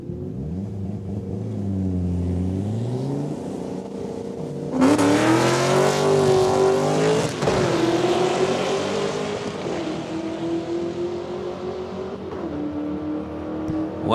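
Drag race cars run at Saskatchewan International Raceway in Saskatoon, including a 2003 Mustang. An idling engine rumble gives way to a loud launch with rising revs and gear changes, then the engine sound fades as the cars move away.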